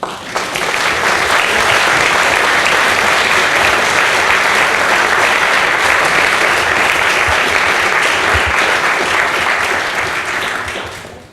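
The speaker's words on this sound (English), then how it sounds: "let's first have a round of applause" A keynote audience gives a round of applause, loud, dense clapping from a large crowd that swells quickly and holds steady for about ten seconds before tapering off at the end.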